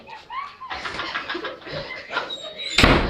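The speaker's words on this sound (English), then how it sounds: "Uh-oh, they slammed the door, Miss Boogaloo." A door slams shut during a school play, landing as a loud, sharp broadband bang near the end of the clip after a stretch of people talking and bustling about.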